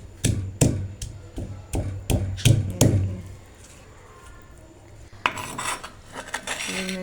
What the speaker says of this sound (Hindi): ये मैंने पीस लिया, मैं निकाल रही हूँ कटोरी में